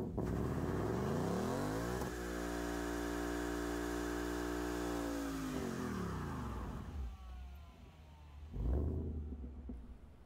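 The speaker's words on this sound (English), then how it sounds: "Now let's give it some gas." A Ford Mustang engine revs with the line lock engaged, climbing quickly to a loud, sustained high-rpm roar, holding there, then dropping off, with a brief surge of noise near the end; close and continuous, without talk.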